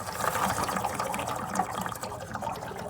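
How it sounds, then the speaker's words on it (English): Water drains steadily from a hot water heater tank, a continuous close gushing and trickling rush with slight bubbling throughout. "I'm gonna let this drain again."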